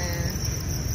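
A continuous shrill chorus of field crickets on a cricket farm, many insects trilling at once in an unbroken, even wash of sound, close by and with no speech.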